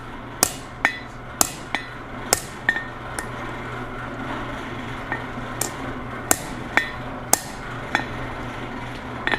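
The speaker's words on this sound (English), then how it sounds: "And again, some sharp blows, and I've got a pretty good swell." Sharp hammer blows ring out while forging hot steel into a blacksmith's drift, irregular clusters of close metallic strikes with bright clinking overtones and quiet gaps between, no speech.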